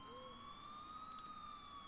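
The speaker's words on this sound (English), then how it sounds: "I finally heard sirens in the distance" A distant siren wails steadily in a long, slowly shifting tone over a low background rumble, with no one talking.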